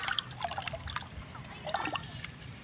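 Urea solution being poured onto young 9-day-old cucumber plants, a soft, close trickle and light splashing of liquid continuing through the moment, with faint background noise.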